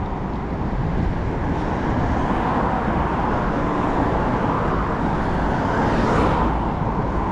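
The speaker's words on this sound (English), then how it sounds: "The shuttle from Terminal 3 to Terminal 2 and back." An airport terminal shuttle bus between Terminals 3 and 2 in Beijing passes in loud, continuous traffic, a dense broadband road roar that swells slightly near the end, with no talking.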